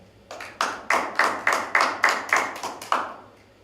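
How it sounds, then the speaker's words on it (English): A small audience at a Grand Prix final applauding a sponsor, with about ten distinct, evenly spaced claps close by, each sharp and ringing out briefly, like a handful of people clapping in unison. "So a big thank you and another round of applause for them."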